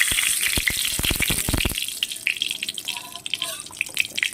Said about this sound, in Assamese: কেৰাহীতে তেলটো মাৰি লওঁ, তেল ইয়াত পকিছে আৰু ইয়াতে দি দিওঁ এতিয়া তেজপাত খিলা